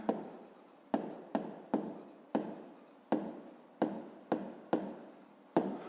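Pen writing on paper during a fifth-grade maths exercise: bursts of scratchy strokes, each starting sharply and fading, repeated about ten times in quick rhythm, close and clear in a quiet room with no talking.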